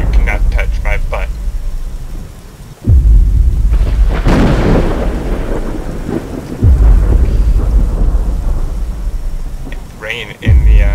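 Heavy rain and rolling thunder inside the horror game Slenderman's Shadow, with a steady downpour hiss broken by several loud, deep booming claps, while a person speaks faintly at the start and end.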